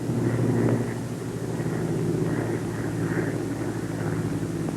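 A Bell P-39 fighter's engine throttled back to climbing power, 37.5 inches of manifold pressure with the prop governor at 2,600 RPM, drones as a steady, loud, harmonic roar with some wind buffeting.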